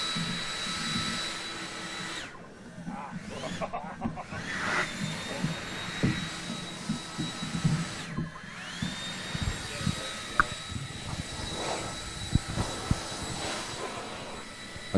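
A STIHL air broom blower runs at a timber sports championship in New Zealand, a steady loud whine that drops out briefly twice and comes back, with intermittent knocks and crowd noise around it.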